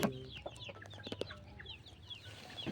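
Backyard laying hens cluck in a busy, overlapping murmur of short calls, moderately close and steady, with no one speaking.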